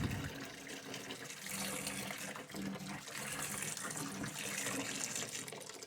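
Water runs from a tap while Sega Saturn console parts are cleaned, a loud, continuous gushing splash that varies a little in strength over several seconds.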